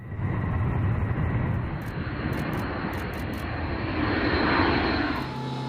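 The engines of a B-52 bomber roar loudly and without a break, a close, dense, unchanging drone that fills the whole stretch with no voices.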